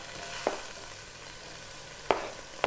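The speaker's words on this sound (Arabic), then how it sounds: "حنضيف الدياي ونحمره مع البصل لما تطلع ريحته" Onion frying and being stirred in a mix of oil and butter, a soft steady sizzle with three brief scraping stirs of the spoon, close and moderately quiet, no voices.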